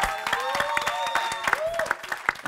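A church congregation clapping and cheering during a service, a dense burst of hand claps at close range with a few voices calling out over it.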